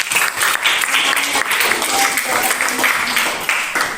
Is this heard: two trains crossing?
no